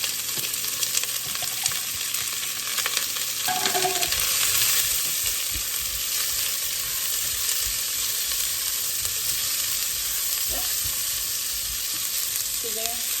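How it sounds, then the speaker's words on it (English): Vegetables sauteing in hot vegetable oil in a pan for chicken noodle soup, a steady close sizzle and crackle with occasional clatters of stirring, no talk. "now I'm just going to toss in my vegetables and saute these a little bit"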